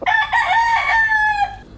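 A Tagalog-breed gamefowl rooster crows once, loud and close, in a single drawn-out call lasting under two seconds.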